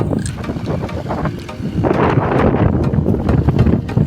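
Strong wind gusting across a farm field with cumin crops under sprinkler irrigation, buffeting the microphone in loud, rough bursts that build stronger partway through.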